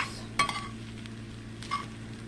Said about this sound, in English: we just want to stir this up into our vegetables